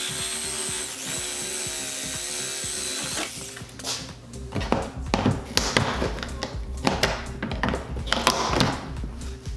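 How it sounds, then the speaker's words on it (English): A Sawzall reciprocating saw cuts through a plastic dip tank with a loud, close, rapid buzzing rasp, broken by irregular bursts and jolts after a steadier opening run. "We'll finish this off with a sawzall."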